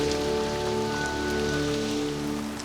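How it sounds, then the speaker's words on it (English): Heavy rain pours steadily on an island woodland under trees, a dense continuous hiss of drops striking leaves and ground, loud and unbroken throughout with no voices. "it's pouring with rain"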